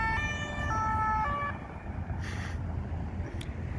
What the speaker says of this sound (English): Man, there was literally always a siren here.